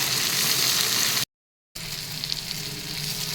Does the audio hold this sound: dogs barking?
no